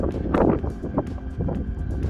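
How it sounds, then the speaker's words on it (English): Strong wind on a mountain summit in Torridon, Scotland buffets the microphone in heavy gusts, a loud rumbling roar that surges and eases over a couple of seconds. "It is really windy up here."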